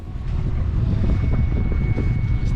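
Strong wind buffets a sailboat in a channel, a steady roaring rush with low rumbling gusts that holds loud and close throughout, mixed with faint water and hull noise.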